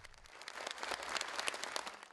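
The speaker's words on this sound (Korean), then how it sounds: "명인들의 열정에 절로 박수가 나옵니다." Audience applause for master performers of traditional Korean music at a cultural heritage performance, a dense steady wash of many hands clapping that swells in from quiet and holds at a moderate, slightly distant level.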